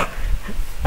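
A dog barks faintly in the background, a brief muffled bark or two against low room noise, with no talking.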